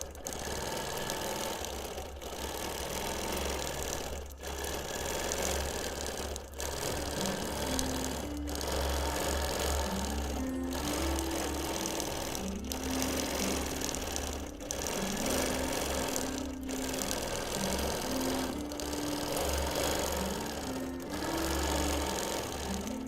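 A sewing machine runs steadily through free-motion quilting on fabric, a continuous close mechanical hum with rapid stitching rhythm and brief pauses every few seconds.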